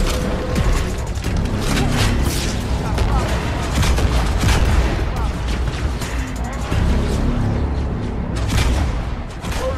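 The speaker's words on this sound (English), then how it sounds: "So while we're bombing the brutes" Heavy Halo 2 combat as Brutes are bombed: dense, continuous gunfire and booming explosions fill the whole stretch at a steady loud level, with indistinct game voices mixed in.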